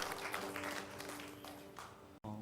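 A church congregation applauding during a service, a fairly soft, steady patter of many hands clapping together, cut off abruptly near the end.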